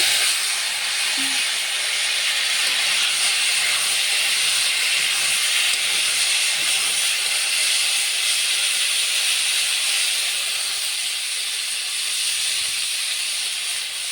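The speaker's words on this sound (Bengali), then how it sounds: "এখানে এই তেলেই আলুটা ভেজে নেব" Potatoes frying in oil left over from frying eggs for egg curry, a continuous even hiss of sizzling oil at a steady level throughout, with no talking.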